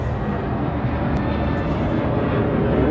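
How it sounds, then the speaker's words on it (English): Steady broadband roar of an airplane passing overhead, loud and continuous, with no talking. "There goes one of those airplanes again I mentioned."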